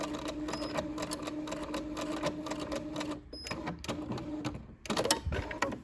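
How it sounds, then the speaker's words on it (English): A sewing machine running a top stitch along a box pleat on a skirt, a steady rapid mechanical whir of stitching that halts briefly, clicks, then resumes, close and alone. "Stitch until you get to the end, and then place the needle down, lift up the presser foot, and pivot."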